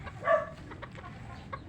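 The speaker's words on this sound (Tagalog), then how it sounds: "maraming mga manok ko." A single short clucking call from backyard chickens kept behind a house in Bulacan, Philippines, rises briefly over a quiet outdoor background with no voices.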